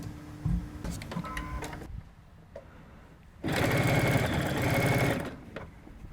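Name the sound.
sewing machine stitching a half-inch seam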